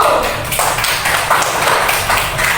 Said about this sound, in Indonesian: kita beri aplaus buat kelompok 3 dulu